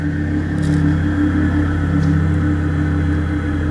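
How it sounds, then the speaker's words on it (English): Synthetic engine sound from a fully electric Porsche Taycan, a steady low hum with a faint whine, continuous and fairly loud from inside the car, with no talk. "This car is fully electric, and it makes a fake engine noise."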